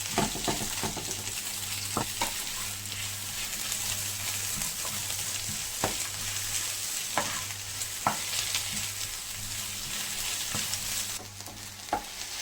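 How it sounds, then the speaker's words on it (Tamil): Chopped onions sautéing in hot oil for a Kerala-style chickpea curry give a steady close sizzle, broken by irregular clacks and scrapes of a spatula stirring the pan, with a low hum underneath and no talking. "வெங்காயம் சேர்த்து வெங்காயத்தை நல்லா வதக்கிக்கலாம்"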